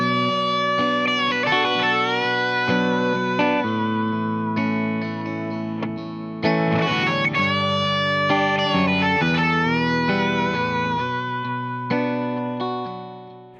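Distorted electric guitar lead lick from a song's second solo, built on the minor pentatonic with a raked attack and bends, played continuously and loud with effects and reverb, no talking.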